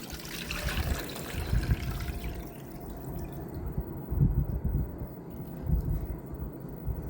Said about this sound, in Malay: Air rebusan ikan ni kita akan tapis